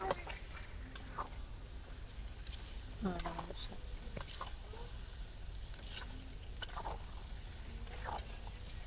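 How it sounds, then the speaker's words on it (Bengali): Chicken cooks with coconut in a pan over a quiet, continuous sizzle, broken by the scrape and clatter of occasional stirring and with faint voices underneath. "দেখেন কিভাবে নারকেল দিয়ে পাক করে মোরগ"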